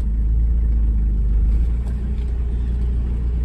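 A Toyota LiteAce 4x4 diesel with a five-speed gearbox pulls away on a drive, a steady low engine rumble with mid-range drone, close and continuous, with no voices.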